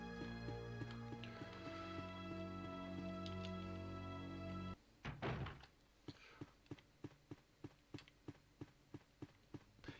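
In the 1996 Resident Evil game, a locked door is tried, giving a dull thunk. A run of evenly spaced footsteps follows on a hard floor, after a held music chord cuts off.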